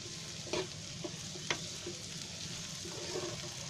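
Masala for an egg sabzi (andya chi bhaji) sizzles in a pan over raised gas, with a steady frying hiss and occasional scrapes and knocks as it is stirred.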